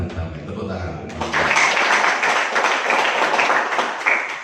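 Audience clapping at an Indonesian community youth organization meeting in Pacet that starts after a second of voice, then continues as dense, fairly loud applause, with a few people's voices mixed in.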